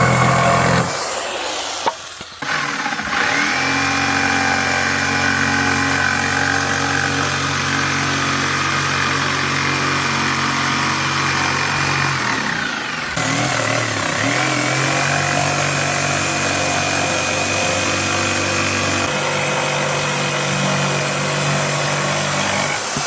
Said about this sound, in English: Got to use the jigsaw, aren't I?